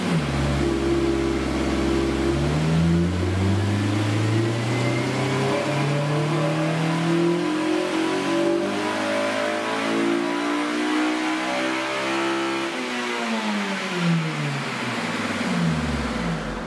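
A car engine revs hard during a dynamometer horsepower run, its loud, sustained drone climbing and falling in pitch as it pulls through the gears, with no talking.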